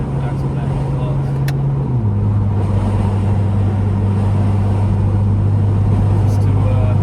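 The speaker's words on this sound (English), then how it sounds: "That intake sounds amazing." A 2023 Lexus IS 350 F Sport engine with aftermarket intake and axle-back exhaust drones steadily up close, a deep throaty hum that shifts pitch slightly, with a voice talking over it.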